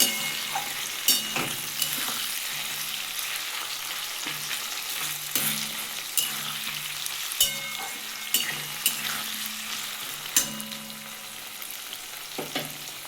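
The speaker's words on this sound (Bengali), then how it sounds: "দেখুন আমার আলুটাও ভাজা হয়ে গেছে" Potatoes sizzle as they fry in a pan for a home-cooked paneer and ridge gourd dish, a steady close crackle broken by sharp clinks and scrapes of stirring every second or so.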